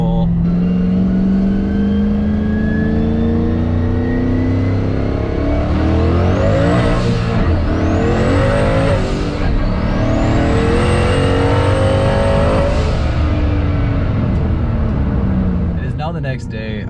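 An S197 Ford Mustang drag car with a full weld drag pack makes a loud, sustained full-throttle acceleration pull up close, climbing through several gear changes with rising engine pitch and brief drops between shifts.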